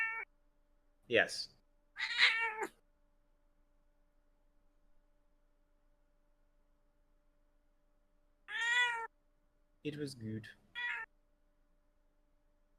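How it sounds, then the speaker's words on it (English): A cat meows several times, close and clear, with pauses between calls, alongside brief human speech. "Hello, cat."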